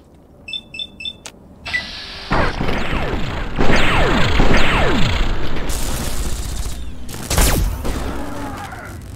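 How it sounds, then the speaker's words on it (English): Enemy gunfire in the video game Fallout 3: a sustained, dense volley of shots and impacts with sharp cracks and booming hits that carry on loudly for several seconds, with no talking over it. "Who the hell else is shooting at me?"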